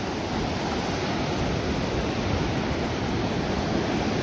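Continuous ocean surf washes past a fishing spot, a broad, steady roar of water with no distinct breaks, loud and close, with no voices.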